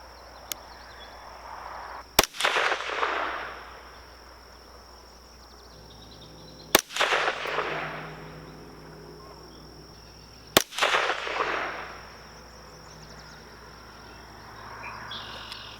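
A Kel-Tec CMR-30 rifle fires CCI rounds outdoors: three sharp, loud single shots several seconds apart, each cracking out and trailing off into a rolling echo, with faint insect and bird sounds in the background.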